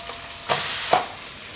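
Chopped okra cooks in hot oil in a pan, sizzling steadily, with two brief louder scraping bursts as it is stirred by hand.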